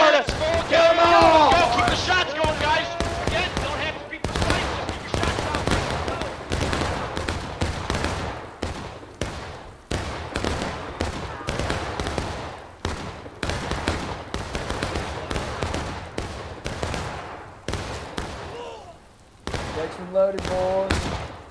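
Volleys of shotgun fire ring out in a chaotic video game battle, the sharp repeated blasts tightly clustered and loud throughout, mixed with shouting voices and a busy crowd of players.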